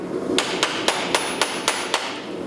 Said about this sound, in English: My hammer's about to fucking break.